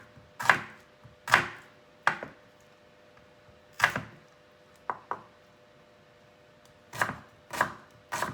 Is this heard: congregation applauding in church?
no